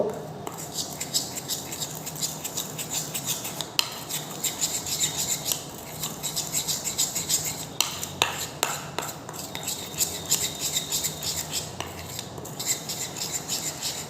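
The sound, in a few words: stirring multani mitti face pack with water in a bowl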